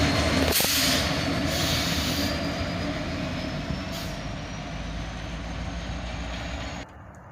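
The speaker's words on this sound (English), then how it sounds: "this southbound tanker train was powered by a Norfolk Southern unit" A southbound tanker train led by a Norfolk Southern SD70ACe locomotive rolls past close by, a steady loud rumble of wagons with brief squeals, then stops abruptly near the end.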